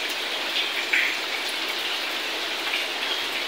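Rain falling steadily from the sky, an even, dense hiss of drops on surfaces that stays constant throughout, close and moderately loud, with no voices.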